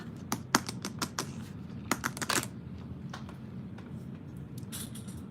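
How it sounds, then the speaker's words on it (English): Metal purse feet clicking against a table while a tote bag is assembled, heard as a quick run of sharp clicks, then a second flurry, then scattered taps over a steady low background hum. "Purse feet sound is the best"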